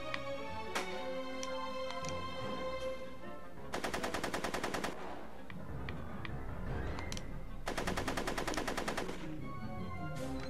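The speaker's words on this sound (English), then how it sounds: "Are you shooting at me?" Two bursts of rapid machine-gun fire crackle in Back to the Future: The Game, each lasting about a second, with scattered single shots and game sounds between them.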